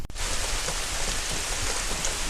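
Heavy rain falls hard on a garden, making a dense, steady hiss of drops over the ground and plants with no letup, and no voices are heard.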